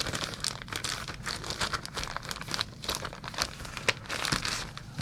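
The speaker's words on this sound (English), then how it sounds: "these look like player sheets. And they come in a handy Ziploc bag." Player sheets for Twilight Imperium 4th Edition shift inside a snug plastic Ziploc bag, a close, soft, continuous crinkling and rustling with a few sharper crackles.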